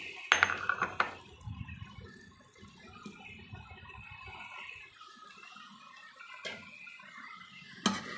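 Mushrooms stirred in a cooking pot, sharp clinks of a utensil against the pot early and near the end over soft, continuous low scraping and bubbling.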